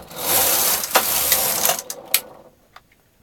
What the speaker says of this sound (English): And then knit 1 row.